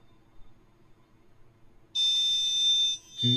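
A gas sensor alarm buzzer on an embedded system test board switches on with a loud, steady high-pitched tone lasting about a second before cutting off, after a stretch of quiet background hum.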